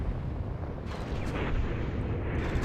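Spaceship explosions in the space combat game Nexus: The Jupiter Incident, a dense continuous rumbling roar of blasts with bursts swelling midway, loud and sustained with no talking.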